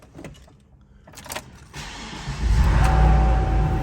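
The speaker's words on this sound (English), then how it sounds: "We're gonna go ahead and put the key in and fire it up." A 2006 Chevrolet SSR 6.0 pickup engine catches after a few clicks and mechanical clunks, then settles into a steady, loud idle with a low rumble close by.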